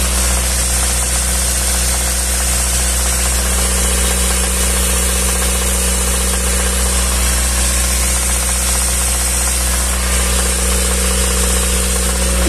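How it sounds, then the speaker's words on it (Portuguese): A car engine with a knocking fault, being run during an internal engine sludge flush; a loud, close, continuous mechanical drone with steady vibration and a faint rapid tapping underneath, no talking. "Tem um barulho de batida do motor, ó."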